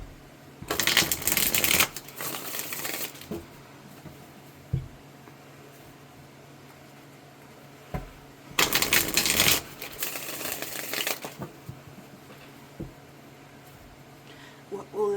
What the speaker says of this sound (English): So let's just go ahead and start shuffling.